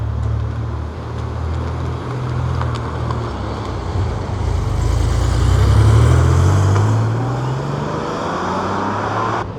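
A Porsche 924 Carrera GT drives away, a deep engine rumble that swells as revs climb and then eases off, loud and close over faint traffic noise.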